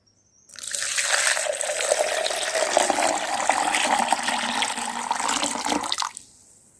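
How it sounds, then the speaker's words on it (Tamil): Water pours in a steady, close stream into a homemade tomato-plant fertilizer mix for about five seconds, starting suddenly and tapering off at the end. "இப்போ தண்ணி சேர்த்துக்கலாம்."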